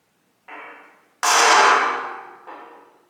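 Three sharp metallic strikes of a hammer on a 5/8 transfer punch marking holes in a Peterbilt 359 truck frame: a light tap, a loud ringing blow and a softer final hit, each decaying with a brief metallic ring.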